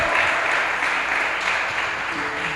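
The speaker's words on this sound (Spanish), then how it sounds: "dale ese fuerte aplauso al Señor" Loud, sustained applause from a church congregation during a worship service, a dense steady wash of clapping that carries on evenly throughout without pause.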